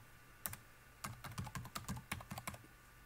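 Computer keyboard being typed on during a Solaris installation, a quick run of close, crisp key clicks in uneven bursts, faint and without talk.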